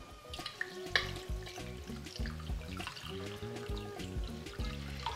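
Rice being washed by hand in water for chicken biryani: sloshing, swirling and trickling splashes in uneven bursts, close and moderately quiet, with no talking.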